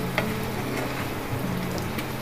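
Spiced potatoes frying in a pan, a quiet, steady sizzle with soft scraping as they are gently stirred and mixed.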